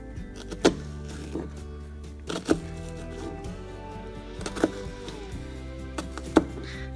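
A knife slices vegetables for a roasted corn salsa, cutting most of the way through, giving a few sharp, isolated chops spaced seconds apart over a low steady hum.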